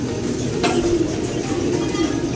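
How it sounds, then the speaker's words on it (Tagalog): A pigeon or dove coos softly amid steady outdoor background noise, a faint call nearby with no clear wingbeats. "Kaya may bird oh, dumapo na."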